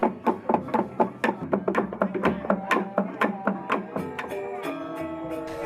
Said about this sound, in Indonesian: dan suara kulkul atau ketungan